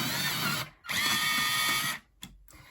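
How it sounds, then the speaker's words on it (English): An electric pencil sharpener grinding a Faber-Castell Black Edition colored pencil, two loud whirring bursts close by, a short one then a longer steady run, each stopping abruptly, with a brief click after. "there's another sharpener coming"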